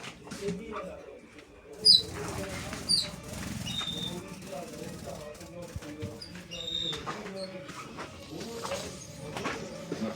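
Caged cockatiels flap and flutter their wings amid soft coos and chirps, with scattered bursts of wing noise and bird calls close by, and a person talking in the background.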